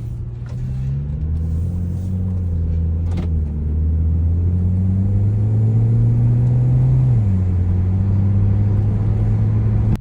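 A BMW 335i's engine rumbles steadily and close, its low drone rising in pitch as it revs and then dropping back, with no talk over it.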